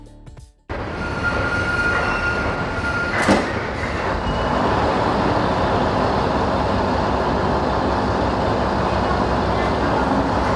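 Steady rumble of a first-class passenger train ride in India, a continuous broadband rolling roar with a brief rattling burst early on, heard from inside the carriage with faint background voices.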